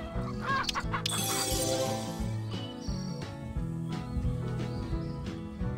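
Cartoon chickens cluck and squawk in the farming game Hay Day, several short, busy calls layered over bright game music and chimes, fairly loud, with no speech.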